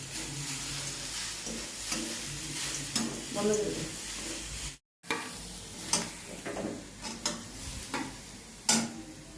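Grated coconut frying in a pan for pitha makes a steady soft sizzle with repeated stirring scrapes and taps, broken by a brief silent gap midway.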